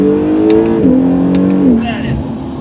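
Acura NSX hybrid supercar accelerating hard, engine note climbing steadily through the gears with a shift, loud and close, with faint talk over the end.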